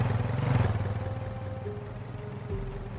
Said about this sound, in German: Und die gelbe Bohne nimmt wieder das Fahrzeug und flüchtet.